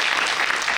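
Audience clapping at a Hindi poetry gathering in New Delhi: a dense, steady burst of many hands applauding together, loud and continuous through the short moment, with no voices over it.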